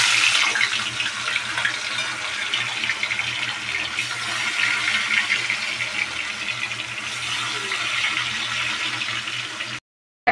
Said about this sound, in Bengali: এবার আমি মাছটা ছেড়ে দিব।